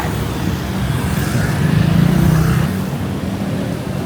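Road traffic heading toward Don Mueang Airport rumbles loudly nearby as cars pass in a steady stream, with one vehicle swelling to a roaring peak midway before the noise eases back to a continuous drone.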